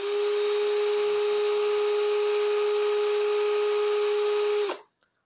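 A Sunc 36VF cordless drill in drilling mode at speed setting 2 whines steadily at a constant pitch for several seconds, loud and close, then cuts off abruptly.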